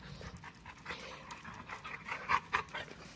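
A dog pants quickly and steadily close by, soft rhythmic breaths with a couple of sharper puffs near the end, no talk over it.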